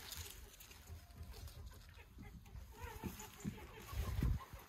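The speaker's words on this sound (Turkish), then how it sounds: "Tavuklar dışarı salınmadığı için şu an kavga ediyorlar." Chickens inside a coop cluck and scuffle in a brief fight, faint and close, with flurries of squawks rising toward the end while a person talks over them.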